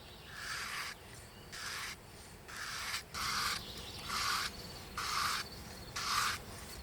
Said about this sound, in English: next you just start to sharpen your knife, but make sure it's only in one direction, because otherwise you will cut into the sandpaper